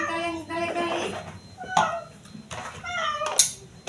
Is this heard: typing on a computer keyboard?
no